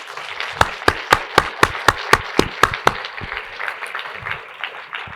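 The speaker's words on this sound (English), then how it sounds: "Let's give him another round of applause." A short burst of about ten sharp, evenly spaced claps rings out after a talk honouring a distinguished professor, then trails off into softer scattered clapping and faint murmur.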